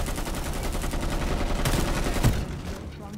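Heavy overlapping gunfire in the video game Homefront: The Revolution, a dense continuous rattle of shots with one sharper report near the end, moderately loud before it fades down.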